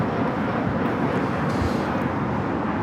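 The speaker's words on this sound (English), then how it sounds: "Another flight out to Cabo, JSX 1052 on the E145." A JSX Embraer E145 regional jet at Los Angeles International Airport gives off a loud, continuous broadband roar that holds steady throughout, with no talk.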